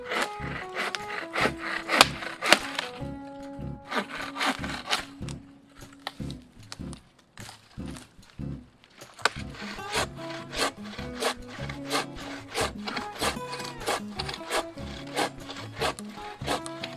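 Hand saw cutting a dry fallen tree into firewood outdoors: steady back-and-forth rasping strokes, close and loud, pausing briefly midway before resuming, with no talk.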